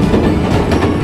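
A train rumbles along the tracks at Nagoya rail depot, a steady close roar with faint rhythmic clatter of wheels throughout the short moment.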